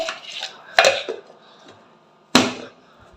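Metal kitchen clatter as milk goes into a pot and the lid is set on: two sharp, close clanks about a second and a half apart, with softer handling knocks between.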